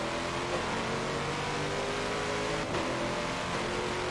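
Race car engine in an endurance racing video game at Le Mans, a loud continuous whine holding steady through a corner, with a brief dip near the end and no voices.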